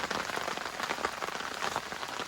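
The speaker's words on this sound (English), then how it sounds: "this rain has been relentless, absolutely relentless, and it's not stopping" Heavy, relentless rain pours down beside the River Ribble, a dense, continuous hiss of drops pattering on nearby surfaces, loud and close with no voices.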